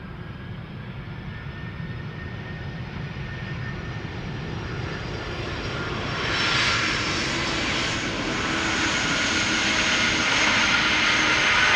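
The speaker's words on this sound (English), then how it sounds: "First up, MNG Airlines A300-600 from 1994." A 1994 MNG Airlines Airbus A300-600 arriving at Amsterdam Schiphol roars loud and close with a steady jet-engine rumble that swells midway and stays strong.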